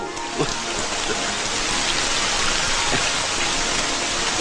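Steady rain falls with a dense, even hiss, a few heavier drops pattering close by.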